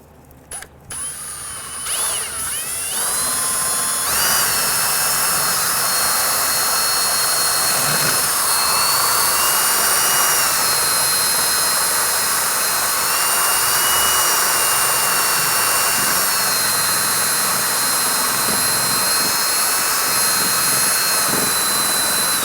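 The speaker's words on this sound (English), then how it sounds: "take a strip of sandpaper, it's a 400 grit, put it on a drill bit, and I'll actually feed this into this" A drill spins a strip of 400-grit sandpaper inside a parking brake part from a 1999-2004 Jeep Grand Cherokee, giving a loud, sustained high whine after a few brief starts, with no talking.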